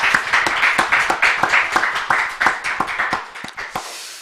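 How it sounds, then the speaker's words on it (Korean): Church congregation clapping at a Sunday Easter service, a steady run of rhythmic handclaps that thins out and stops after about four seconds, with no voices. "하나님 앞에 영광의 박수를 한번 올려드리도록 하겠습니다."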